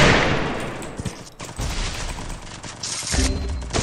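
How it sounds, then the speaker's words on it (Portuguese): Rapid bursts of gunfire from the Free Fire battle royale video game, dense overlapping shots at close range, loud and continuous with brief gaps, no talking over it. "Ah, tá um tiro."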